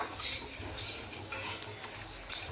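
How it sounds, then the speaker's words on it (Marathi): A utensil stirs peanuts, coconut and spices roasting in a dry pan, with repeated scraping and rattling strokes in an uneven rhythm, close and fairly loud. "त्याच्यामध्येच आपण शेंगदाणे आणि खोबरं भाजलं होतं ना ते पण टाकून देऊया आणि व्यवस्थित असं थोडंसं भाजून घेऊया"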